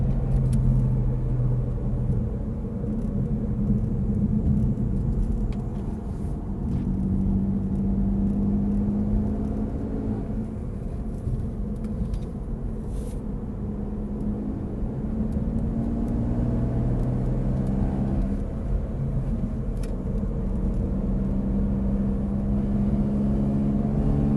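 Race cars from a track day at Mireval, a Corvette among them, roar past in a steady, loud, continuous engine rumble with droning tones that shift as the cars follow each other around the circuit.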